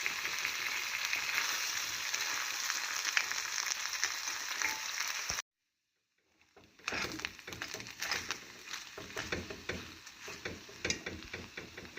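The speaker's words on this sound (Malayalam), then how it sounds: "നന്നായിട്ട് ഇതിങ്ങനെ ഇളക്കിയിളക്കി മൊരിച്ചെടുക്കാം" Beef roast with shallots stirred and fried in a pan, a steady sizzle with scraping stirs, cut off by a brief gap of silence before the frying and stirring resume.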